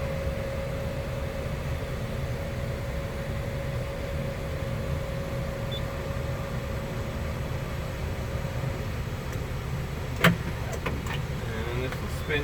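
Powered swivel seat in a 2004 Toyota Sienna wheelchair-accessible van moving, a steady motor whine running inside the cabin for about ten seconds, ending with a few short mechanical clicks and knocks.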